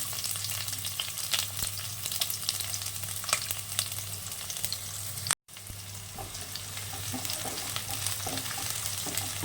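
Chopped onion and garlic frying in oil for mutton dal fry, a soft continuous sizzle with light scattered stirring taps, fairly quiet and close, briefly cutting out midway, with no talk.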